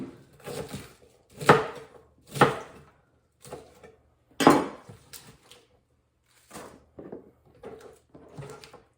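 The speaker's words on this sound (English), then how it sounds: "You see as I'm cutting the lettuce" Knife chopping lettuce on a cutting board for a gluten-free dinner prep, a series of sharp, close chops arriving in uneven bursts with short pauses in between.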